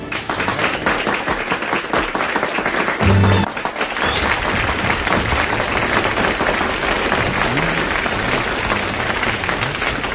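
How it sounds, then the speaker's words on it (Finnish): A standing audience at a Eurovision youth music festival gives loud, sustained applause, dense steady clapping filling the space throughout, briefly swelling with a low thump near the start before settling into an even roar. "Kerrassaan komea esitys, jolle yleisökin antaa raikuvat suosion osoituksensa seisten"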